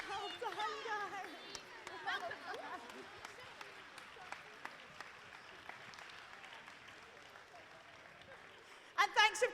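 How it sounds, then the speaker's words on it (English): Crowd applause with scattered clapping and cheering at a LEGO robotics competition final, moderately loud and steady, swelling again in a sharp burst at the end. "Let's give them a huge round of applause."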